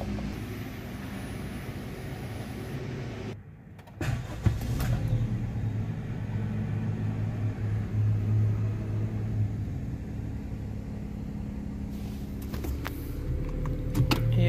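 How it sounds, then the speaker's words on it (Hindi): A 660cc engine of a 2021 Suzuki Alto VXL AGS is started after a brief pause, then settles into a steady, low idle hum that continues close by to the end. "गाड़ी को मैं आपको स्टार्ट करके दिखा देता हूँ।"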